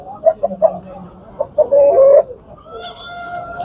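Chickens at a live poultry market in Aydınlı, Tuzla, Istanbul give loud, close clucks and short squawks, with one longer call in the middle and market voices murmuring underneath.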